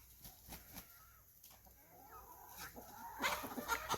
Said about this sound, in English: this here woods rooster done wandered up here